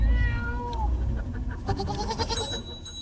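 A cat meows loudly and repeatedly on an alpine pasture, with a goat bleating alongside, both close and calling over each other.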